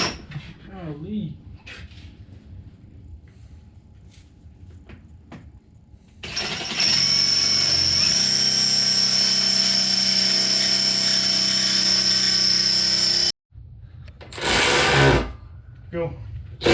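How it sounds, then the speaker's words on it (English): A drill boring holes for rock sliders on the project truck Shiner runs loud and steady with a high whine for several seconds, then stops abruptly, followed by a short burst of another tool noise. "we're going to let Uriah drill all these holes"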